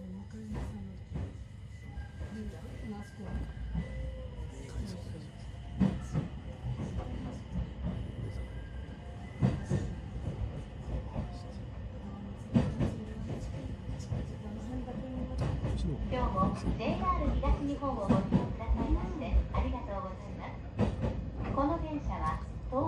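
JR 721 series rapid Sendai City Rabbit train departing on a snowy line, heard from on board as a steady rumble with rhythmic clicks and rising motor tones, under occasional talk.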